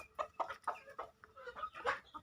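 A brooding native hen gives a steady run of soft, short clucks, close and alone, evenly paced over a couple of seconds.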